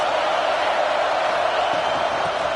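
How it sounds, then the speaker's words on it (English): At a college football stadium, a steady, dense roar of a large crowd swells against the offense, a continuous wall of distant cheering and noise with no breaks. "This crowd trying to make life miserable for this offense."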